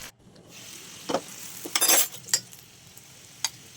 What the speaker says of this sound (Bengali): একটা চামচের সাহায্যে পাল্টি করলে খুব তাড়াতাড়ি পাল্টি হয়ে যায়। আর খুব স্লো আছে এই লিট্টিটা ভাজতে হবে,